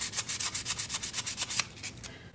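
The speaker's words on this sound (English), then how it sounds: "You can either scrape it off with the sandpaper or your finger." Sandpaper rubs briskly over a metal clothespin to scrape off paper, a dozen quick, rhythmic rasping strokes close up, then a softer brief scrape, with no talking.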